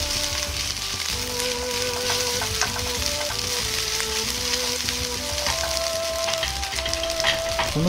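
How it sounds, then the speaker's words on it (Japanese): Fried rice stir-frying in a frying pan shaken up and down without lifting it, a loud, continuous close sizzle with scraping and a background tonal hum. "フライパンは浮かさずにそのまま上下に揺らすことで一定の温度を保ちながら炒めることができ"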